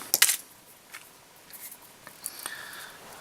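Scissors snip fly-tying material at a slight angle, starting with a crisp close cut and followed by a few faint, quiet clicks and ticks in a hushed room.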